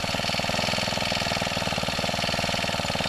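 Small mini tiller engine idling and rattling as it warms up, a steady, loud, close mechanical putter with fast regular firing pulses throughout, no talk.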